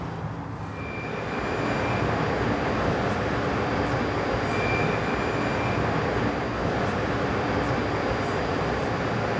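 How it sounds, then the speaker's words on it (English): A train pulls into a station, a continuous broad rumble with faint high tones rising and holding steady throughout, heard alone with no voices. "The train to Union Station is now arriving."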